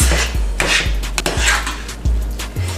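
Noodles tossed and mixed in a cooking pan, giving a run of sharp knocks and scrapes of a utensil against the pan, about five clattering strokes in quick irregular succession, close and fairly loud.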